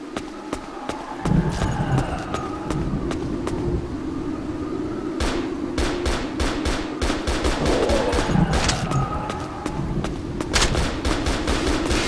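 Gunfire from a P250 pistol in the VR shooter Crisis Action VR, heard as repeated sharp single shots at irregular intervals over a steady, busy game background hum.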